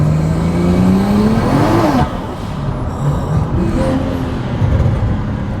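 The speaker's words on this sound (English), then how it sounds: "Dude, it's so loud. Oh my gosh. That turbo sounds amazing though." BMW 335is with an N54 engine and a 1000 hp CES bottom-mount turbo kit, loud and close, with a rising engine note that breaks off into heavy turbo rush and whoosh as the car keeps pulling.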